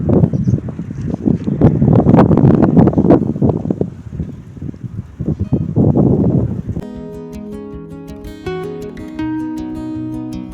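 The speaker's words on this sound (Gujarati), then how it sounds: "આજે પવન બહુ છે." Heavy wind rumbles and thumps against the microphone on a cumin farm, then gives way to music that plays on to the end.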